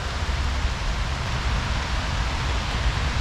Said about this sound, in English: Although it is raining pretty good.